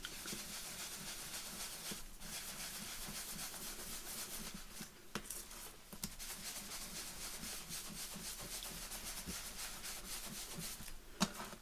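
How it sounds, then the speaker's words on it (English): Steady rubbing of a cloth buffing ink off raised embossing on an acetate sheet, a faint continuous scrub with a few brief pauses, alone without talk. "just kind of buff that up a bit, take the ink off the top of the embossing"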